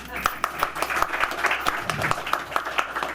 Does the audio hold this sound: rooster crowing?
no